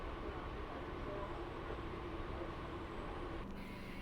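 A train pulling into Digonagar station between Shantipur and Krishnanagar, a continuous rolling rumble with a steady mechanical hum that holds evenly throughout.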